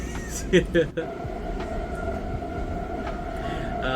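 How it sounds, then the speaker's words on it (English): A subway train running on a city metro ride: a steady, full rumble throughout, with a few brief voices near the start. "We got the good subway train this time too."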